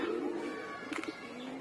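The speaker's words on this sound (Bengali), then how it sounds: "এই যে এটা হচ্ছে আরেকটা আসছে অতিথি কবুতর" A hungry visiting pigeon coos close by in a low, murmuring call, with a brief burst of wing or movement noise midway.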